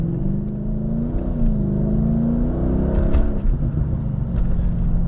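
A Mercedes CLK 500 fitted with a throttle controller set to Sport +5 accelerates hard, its V8 engine droning steadily and rising in pitch, close and loud for the whole stretch with no talking.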